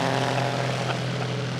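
Propeller airplane engine running at the 2025 Music City STOL competition, on an aircraft with ladder vents on its cowling: a loud, steady, close droning hum with a strong low buzz, heard alone with no voices.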